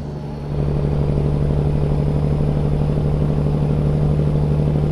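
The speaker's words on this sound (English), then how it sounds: "Truck sounds so good, man, back here, just like in a cruise," A stretched-frame Peterbilt truck idles and then revs in a truck-driving game, its deep, steady engine rumble and drone with a fast, even pulsing beat rising a step early and holding loud and constant.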